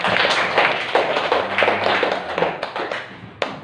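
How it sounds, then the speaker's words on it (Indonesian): A small group claps for a presenter in a classroom teaching session, close, brisk hand claps with distinct individual slaps, tapering off near the end with a final sharp clap. "Tepuk tangan untuk Imdadur Rahman."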